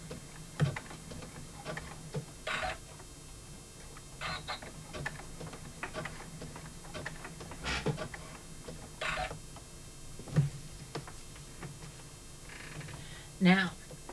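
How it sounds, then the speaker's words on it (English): An embroidery machine stitches slowly, giving scattered soft mechanical ticks and short whirring bursts at irregular intervals over a quiet background, with a low hum underneath. "when I really slow down the ability of my machine on how quickly it can stitch"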